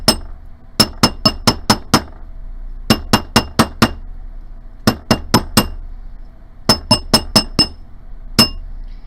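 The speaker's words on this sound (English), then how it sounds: "So I'm just going to go ahead and flip it over, put it back on my mandrel, and hammer it again." Sterling silver ring struck with a hammer on a steel ring mandrel: close, bright metallic clinks in quick bursts of four or five blows with short pauses between, no voices.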